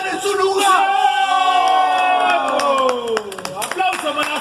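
A crowd at a freestyle rap battle final whoops, yells and claps, with loud voices rising over scattered applause in a lively, continuous din.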